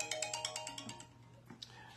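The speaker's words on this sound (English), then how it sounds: "I'm sorry about the phone." A phone ringtone chirps in a quick repeating electronic pattern, moderately close and fairly quiet, then stops and is followed by a couple of faint knocks.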